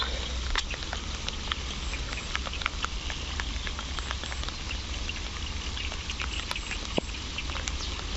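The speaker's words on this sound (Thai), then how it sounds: "บรรยากาศฝนตก" Steady rain falls throughout, a dense hiss with scattered distinct drops pattering on a nearby surface.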